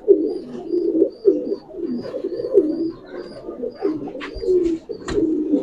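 Chila and racer pigeons at a pigeon seller's shop coo close and loud in repeated throaty rolling calls, with a few brief chirps and clatters near the end.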